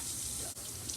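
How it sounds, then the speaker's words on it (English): Running water gushes steadily as dirt is rinsed from beeswax during rendering, a close, continuous faucet-like splash with one brief dip partway through. "We're just rinsing it off just like that."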